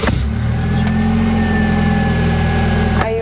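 A police car engine revs loudly up close as the car drives off, a sustained rising roar with brief knocks and clunks at start and end, no speech.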